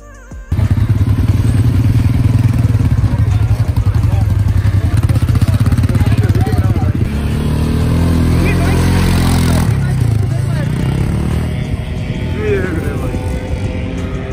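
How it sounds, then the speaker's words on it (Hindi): A motorbike revs and rides off across open desert sand. The engine is loud and close at first, then fades into a steady drone as the bike moves away, with wind noise and chatter underneath. "जा रहा है बाइक पे"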